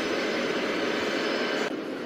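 Airplane engine from the Trainz Simulator game, a steady loud jet-like roar with no talk, ending in a slight drop in tone near the close.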